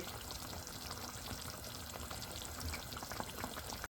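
Punjabi chicken gravy with crushed tomatoes fries over a high flame, a steady close sizzle and crackle with faint stirring throughout and no talking.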